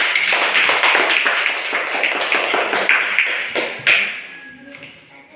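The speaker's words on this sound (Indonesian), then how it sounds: "kita beri aplaus dulu untuk kelompok 1" A classroom group in a teacher-training session at a college in Merauke receives applause, with dense clapping from many hands sustained for about four seconds before fading out.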